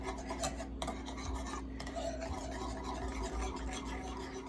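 A utensil stirs tomato sauce in a pan for a creamy shrimp and sausage pasta, giving a continuous soft scraping and rubbing close by with no talking.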